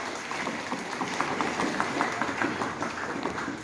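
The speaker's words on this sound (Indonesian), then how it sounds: "Tepuk tangan untuk SMP 1 baru-baru" Applause from a crowd of students at a school Ramadan session, a steady patter of many hands clapping at once, even and moderately loud for a few seconds with no voices on top.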